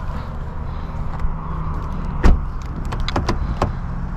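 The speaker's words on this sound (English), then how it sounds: "Doors open." Rear door of a 2016 Ford Edge SUV opening, a sharp latch click followed by a few lighter clunks and taps against a low steady background hum.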